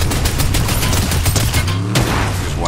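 Rapid automatic gunfire rattles loudly in an online shooter game, a dense close burst of shots, a brief lull, then another volley, with no voices over it.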